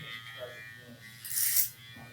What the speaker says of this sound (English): Getting through pretty good with the clipper over comb.